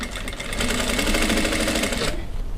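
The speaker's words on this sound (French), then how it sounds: "et on coud" A sewing machine stitching down the middle seam of fabric near a zipper, running at a fast, steady rattling pace for about two seconds before stopping abruptly, close and clear with no talking.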